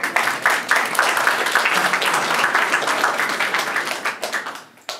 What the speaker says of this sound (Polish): brawa dla mnie